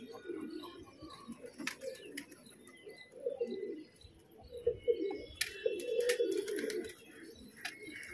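Pigeons coo in low, throaty bursts on a rooftop, joined by a few sharp chirps and scattered clicks, fairly close and continuous, with no one speaking.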